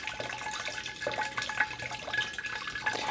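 Water from a garden hose runs into a fish tank at low pressure, a continuous splashing and gurgling trickle with bubbly drips, fairly close and quiet, with no talking.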